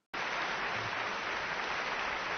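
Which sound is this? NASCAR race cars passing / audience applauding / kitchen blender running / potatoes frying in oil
audience applauding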